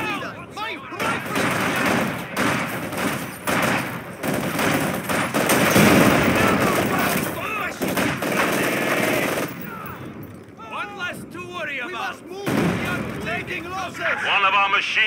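Battle din in the video game Company of Heroes 2, with machine gun fire and other gunfire rattling almost continuously and loudly under frequent shouted game voice lines, easing briefly before picking up again.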